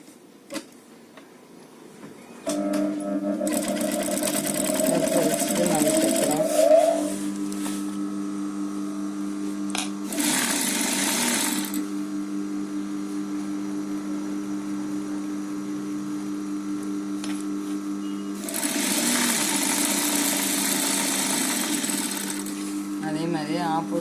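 A sewing machine stitches a folded hem on a fabric bag in several bursts of whirring separated by pauses. A voice talks over parts of it, with a steady hum underneath.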